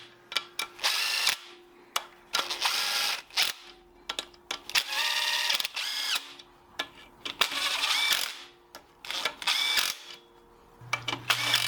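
A DeWalt power driver spins M6 bolts with 8mm heads home on the gearbox of a 1973 Foden S80 lorry, in a string of short, close whirring bursts broken by brief pauses.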